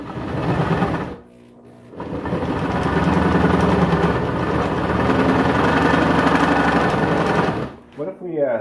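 A hand-held drill bores into an LS engine cylinder head in a garage, a steady loud whirring motor running almost continuously with one short pause, and a voice speaks briefly at the end.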